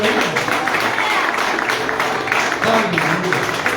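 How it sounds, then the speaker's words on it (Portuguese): Church congregation applauding the Lord during an altar call, a dense, continuous wash of clapping with voices mixed in, loud and close. "Aplauda o Senhor."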